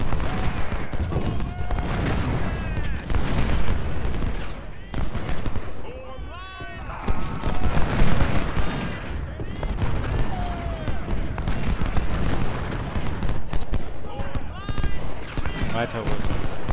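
Booming cannon and crackling musket fire from a Civil War battle in the strategy game Ultimate General, dense and continuous throughout, mixed with a voice talking over the fighting.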